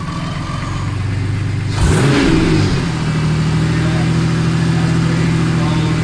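A car engine, freshly fitted with new rockers and valve springs, idles, then revs sharply up and falls back before settling into a steady idle again; loud and close.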